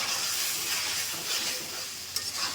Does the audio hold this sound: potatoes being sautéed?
yes